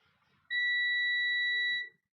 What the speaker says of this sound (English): You should hear the beep and see a red light here.